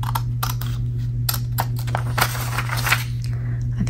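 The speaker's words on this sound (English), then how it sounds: "I'm going to cut this. I'm gonna cut this out." Scissors cutting through glossy magazine paper for a collage: crisp, close snips in an uneven rhythm, quiet and intimate against a steady low hum, with no talking.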